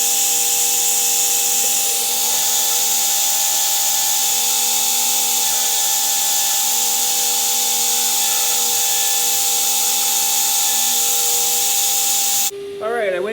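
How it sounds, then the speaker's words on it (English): A power drill bores holes in knife handle material with a sustained high whine and steady motor hum, loud and constant for most of the span, cutting off abruptly near the end as a voice begins. "so now I'm going to drill some holes in these."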